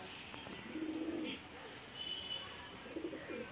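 Running pigeons at a pigeon sale, soft low coos in short bursts against a steady background hum, fairly faint.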